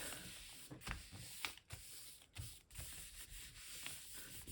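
Soft, scratchy rubbing as paper is pressed by hand onto a gelli printing plate laid with leaves, in steady close strokes with brief pauses and no talk.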